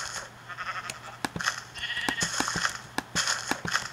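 Repeated sheep bleats from the Minecraft video game, several short calls in a row, fairly clear and distinct with brief clicking sounds between them.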